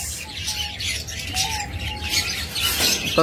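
A pair of blue masked lovebirds calls with short squawks and chirps over a busy background hum, close and fairly loud, sometimes overlapping.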